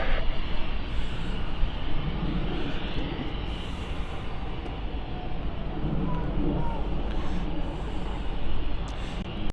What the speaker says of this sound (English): It's a Cessna Citation Mustang 510.